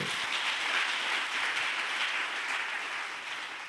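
A church congregation applauds during a sermon, a steady, dense wash of clapping that holds for several seconds before easing off slightly, with no voices over it.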